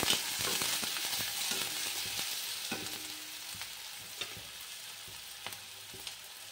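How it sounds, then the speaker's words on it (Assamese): Onions sizzle and fry in a hot pan while a utensil scrapes and stirs them in repeated clinks and scrapes, close up with no talking. "এতিয়া মই ইয়াত পিঁয়াজখিনি ভাজি আছোঁ"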